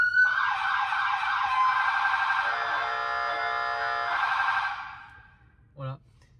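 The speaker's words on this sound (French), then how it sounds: "Donc ta sirène, ça." An emergency vehicle siren sounds loud and close for about five seconds, its wailing tone shifting partway through, then it cuts off and a single short electronic blip follows.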